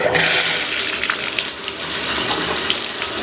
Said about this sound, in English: We even gave it a quick shower just to prove it